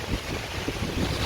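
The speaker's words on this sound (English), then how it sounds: "Excuse the noise of the wind" Wind buffets a microphone outdoors in nasty weather, giving a short, steady, low rumbling roar of gusty noise with no voice.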